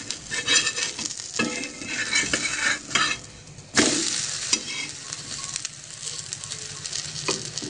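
Bhakri flatbread sizzling in oil on a pan after being flipped, a steady close fry hiss broken by scraping and clinking of a utensil against the pan at irregular moments.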